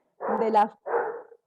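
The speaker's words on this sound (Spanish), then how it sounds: "ese es mi perro" A pet dog barks nearby during a talk about cotton fibre production, two short loud bursts in quick succession mixed with a woman's speech.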